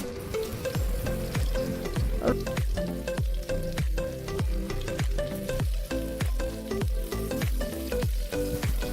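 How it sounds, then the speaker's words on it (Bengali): Crushed garlic and dried red chillies fry in hot oil, a loud crackling sizzle punctuated by a rapid, regular series of spoon clacks against the pan as they are stirred. "এগুলোকে একটু লাল করে ভাজতে হবে"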